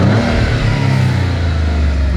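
A Maserati Grecale Trofeo SUV engine revs up in a couple of short bursts in comfort mode, loud and close, with a steady low rumble between them.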